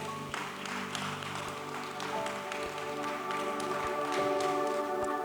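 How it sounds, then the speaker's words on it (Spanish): Church congregation applauding at the close of a sermon, a soft, moderately distant wash of clapping with a few sharper claps and a faint sustained tone underneath. "Dale un fuerte aplauso a Dios."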